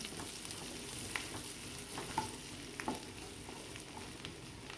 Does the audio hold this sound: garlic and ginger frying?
yes